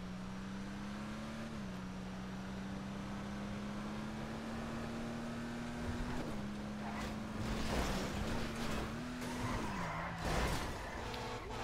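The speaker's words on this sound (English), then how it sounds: "Uh, it seems like a drift car." A Nebula Turbo drift car in GTA 5 Online holds a steady engine drone with small pitch shifts, then breaks into bursts of tyre skidding and scraping toward the end, fairly quiet overall.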